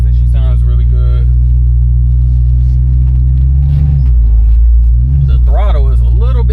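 1967 Ford Mustang engine idling with no throttle, a steady deep loud rumble throughout, close by, while someone talks over it.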